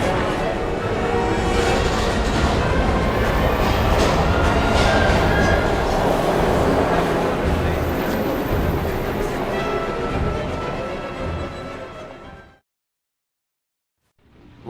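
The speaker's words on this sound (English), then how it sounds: "We've got to get on that train, Ethan." A train in the video game Heavy Rain rumbles loudly and continuously with a dense mechanical roar, close and steady for about twelve seconds before cutting to silence.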